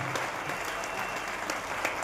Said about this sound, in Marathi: जोरदार या शिक्षकांसाठी जोरदार टाळा वाजवा टाळ्या वाजवत राहा